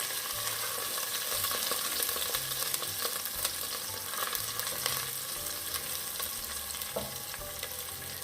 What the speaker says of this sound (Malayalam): നല്ലപോലെ തന്നെ ഇളക്കി കൊടുക്കുക